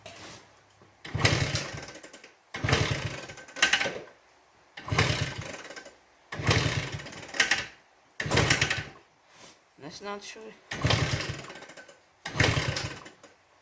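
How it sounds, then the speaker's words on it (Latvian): A small Minsk generator engine, likely needing a new spark plug, runs in repeated loud bursts of about a second each, separated by short gaps, close by, with a brief spoken phrase among them. "lai jūs varat paklausīties uz skaņu motora"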